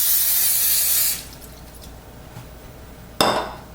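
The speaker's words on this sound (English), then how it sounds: "we're going to spray this with a little non-stick cooking spray" Non-stick cooking spray hisses loudly onto a hot pan for about a second, then stops; a quieter background follows, with a sharp clatter or sizzle burst near the end.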